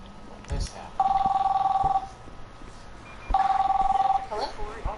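A telephone rings twice, each a loud, steady electronic trill lasting about a second with a pause between, heard close in an indoor room alongside brief movement sounds.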